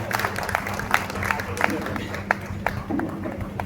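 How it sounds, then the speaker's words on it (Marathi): An audience at the Sainath Bhajan Mandal felicitation ceremony in Virar claps in a loose, uneven patter of individual hand claps, with a person talking over the clapping throughout. "एक टाळी आपल्या शरीरामध्ये ऊर्जा निर्माण करण्यासाठी आपण वाजूया"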